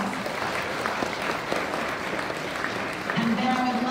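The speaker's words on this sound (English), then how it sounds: "If we could give them a big round of applause" An audience at a volunteer appreciation event claps in a steady, moderately loud round of applause, with a musical tone entering near the end.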